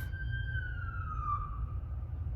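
A siren wails in the distance, its tone slowly sliding downward, faint over a steady low rumble of traffic.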